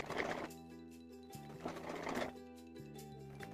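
A domestic sewing machine runs a double line of stitches along the cuff of a suit sleeve, its needle chattering in a steady mechanical hum that rises and falls in pitch through short bursts with no talking.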